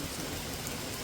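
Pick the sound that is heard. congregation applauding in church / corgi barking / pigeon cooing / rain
rain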